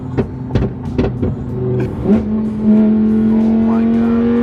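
Nissan GT-R heard from outside, its engine blipping in several short revs before settling into a loud, sustained drone that climbs and holds, close by with a voice briefly over the start.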